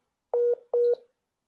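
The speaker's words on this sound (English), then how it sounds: "his phone is connecting and reconnecting" A phone call sounds two short identical electronic tones, evenly spaced and clear against silence, each a steady pitched beep with no talking.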